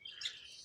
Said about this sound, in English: The birds are out playing.